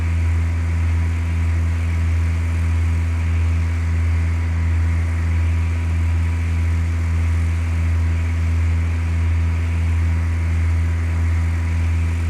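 Airplane engine in Flight Simulator 2004, droning at a steady drone with a strong low hum and even tonal bands, constant and unbroken throughout with no voices.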